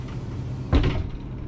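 Door of a 2022 Newell motor coach opening, a single short mechanical clunk and whoosh near the middle, close and moderately loud over a steady low hum.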